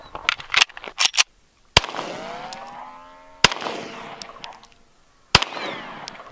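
Three sharp pistol gunshots fired at a metal weight target, each a loud crack with a ringing, metallic clang and bright decaying tones afterward, spaced a couple of seconds apart, preceded by a few quick clicks and knocks.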